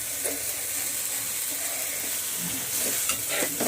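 Curry leaves and food sizzle as they fry in a pan while being stirred, with steady frying hiss and occasional scraping strokes close up, and no talking.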